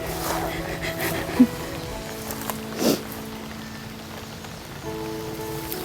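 Rain patters steadily onto a field where chili plants are being planted, a continuous close hiss with a few louder drops, and voices briefly heard nearby.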